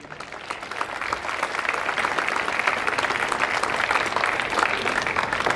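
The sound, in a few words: applause for the registrations team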